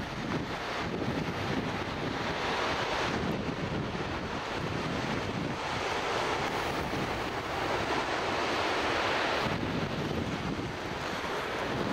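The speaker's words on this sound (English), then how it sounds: "The ocean's perfect today, it's absolutely flat." Surf rolls onto the beach at Loch Sport on a calm, flat day, a constant broad wash of breaking waves mixed with gusting wind buffeting the microphone.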